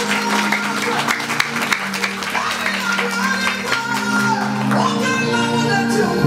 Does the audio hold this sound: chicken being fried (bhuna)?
no